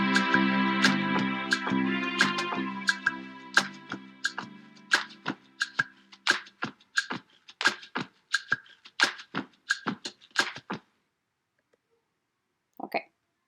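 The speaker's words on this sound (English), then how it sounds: "This is just a super easy fade out." Bass and string parts in a GarageBand arrangement play a rhythmic pattern of plucked, percussive notes that steadily thin out and fade to silence over about eleven seconds, followed by a brief faint blip near the end.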